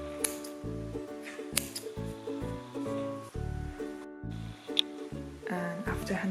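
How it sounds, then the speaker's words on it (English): Scissors snipping yarn while knitting a frilled skirt, a series of short crisp cuts and clicks over a tonal background of soft music, fairly quiet and close. "I will cut off the yarn about this length"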